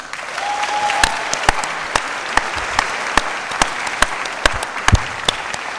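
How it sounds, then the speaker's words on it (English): A graduation audience applauds the Year 13 class of 2024 at Jerudong International School in Brunei, with steady, crowded clapping and a few sharper nearby claps that carry on through the whole stretch. "So, can we please give them a huge round of applause?"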